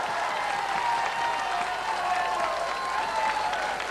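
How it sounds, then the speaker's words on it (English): Audience applause after a singer's Irish song at a radio show event, sustained steady clapping from a sizable crowd with faint murmurs underneath. "Give her a round of applause"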